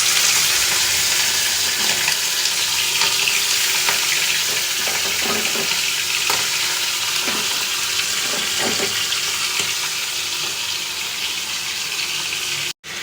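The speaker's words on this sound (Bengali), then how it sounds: "তো চিকেনটা দিয়ে দিচ্ছি কড়াইতে।" Minced chicken keema frying in a kadai gives a close, steady sizzle with bursts of crackle and soft stirring scrapes, fading slightly before a sudden cut at the end.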